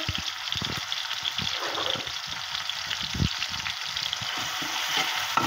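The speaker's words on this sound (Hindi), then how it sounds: "इसको 1-2 मिनट ही बस हिलाना है चम्मच से" Chopped onions stirred with a spoon in a pan, a constant low sizzle broken by repeated soft scraping strokes, close and fairly quiet with no talking.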